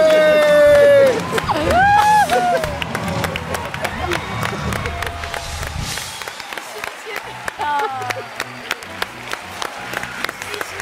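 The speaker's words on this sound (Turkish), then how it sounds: "Alkışlar Tolga Çevik için." A Turkish TV studio audience applauds and cheers, with whistles and shouts over dense clapping at first, then clapping settling into a rhythmic beat as music and voices continue.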